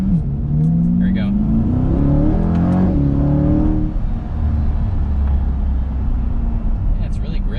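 Chevrolet Corvette C8 convertible on a test drive, its engine climbing in pitch as it accelerates after a quick downshift, a loud steady rumble heard from inside with a driver talking over it.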